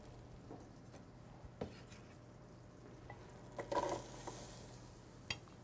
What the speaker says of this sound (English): Now I'm going to add my onions in here.